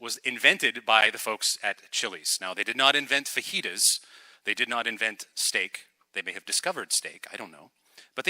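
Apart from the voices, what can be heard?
No everyday noises stand out.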